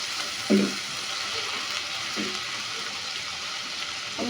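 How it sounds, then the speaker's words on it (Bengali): Spice masala with onion paste is sautéed for a prawn malai curry, giving a steady close sizzle with occasional soft stirring scrapes and knocks against the pan. "আবারও ভালো করে মশলাটা কষিয়ে নিতে হবে।"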